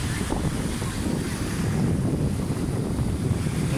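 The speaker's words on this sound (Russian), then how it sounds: "какие волны белые, красивые." White-capped sea waves roll in under strong wind, a loud, steady roar of surf mixed with buffeting gusts across the microphone, continuous and close with no pause.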